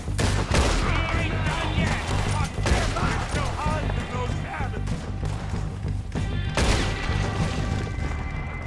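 Repeated gunshots and gunfire bursts in Red Dead Redemption 2 combat ring out loud and close in a steady barrage, with a few heavier booms among them.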